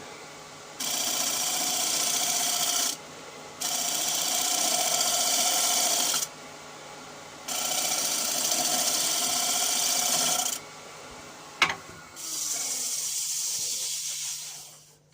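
A side bevel tool cuts a rough turned wooden bowl on the lathe, with bursts of close scraping and hissing cutting noise that start and stop four times, separated by short pauses.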